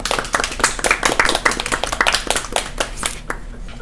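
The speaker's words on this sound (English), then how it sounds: "Can I get a round of applause for mothers?" A small group claps after a podcast host calls for applause for mothers, with loud, close, uneven hand claps in a brief burst that thins out toward the end.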